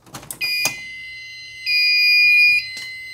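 A fire alarm set off from a pull station on a Firelite system sounds in steady electronic tones, heard in two sustained bursts broken by clicks and handling knocks, with no talking.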